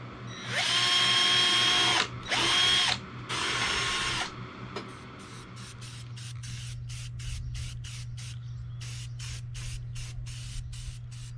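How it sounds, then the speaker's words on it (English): A power drill whines in three loud bursts drilling holes in a box on an enduro motorcycle, followed by a rapid series of short rhythmic pulses over a low steady hum. "I'm going to drill these holes real quick in the box"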